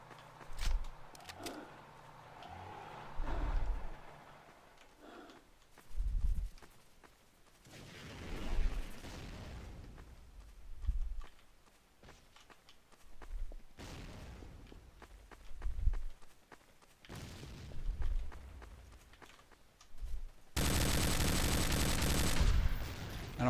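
Automatic gunfire in the video game Empires, sprayed in repeated bursts of rapid shots separated by pauses, moderately loud, ending in a sustained louder blast of noise.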